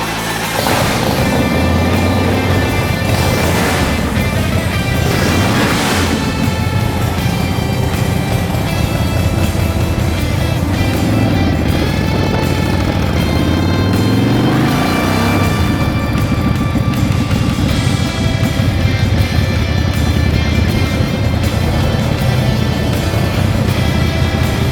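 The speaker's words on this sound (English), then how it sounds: "Now I've just got to take off a test ride and make sure there's no electrical issues." A custom-built motorcycle out on a test ride after new wiring, its engine droning loudly and steadily throughout with rising and falling pitch sweeps as it accelerates and shifts, plus heavy wind rumble, no talking.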